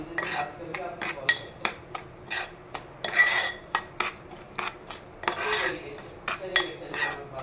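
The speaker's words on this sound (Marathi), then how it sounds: "अजून थोडंसं तूप लागेल मला आणि त्याच्यामध्ये छानपैकी असं आता आपण भाजून घेऊया" A metal spoon stirs and scrapes semolina roasting in ghee in a pan for sweet prasad sheera with bananas, making irregular clinks and scrapes at close range.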